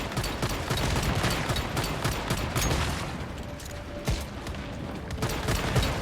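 Gunfire in the video game Once Human, a sustained stream of rapid automatic shots that stays loud and dense for six seconds, with occasional heavier impacts and no talk.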